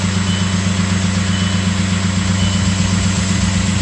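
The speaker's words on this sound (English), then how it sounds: "Well, definitely no problem starting, but don't like the way that flywheel sounds." An Audi allroad 2.0 TDI diesel with a BHW PD engine idles steadily and loudly up close. A constant low drone carries an uneven rattling rhythm from the suspect flywheel, with no talking.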